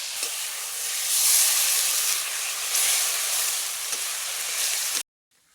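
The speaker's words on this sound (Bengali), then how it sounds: "ভেন্ডিটা সিদ্ধ করে নেওয়ার জন্য কিছুটা জল দিয়ে দেবো ভেন্ডির মধ্যে।" Water poured into a hot pan of okra curry, setting off a loud, close, rushing hiss and sizzle that swells and holds for about five seconds, then stops abruptly into silence.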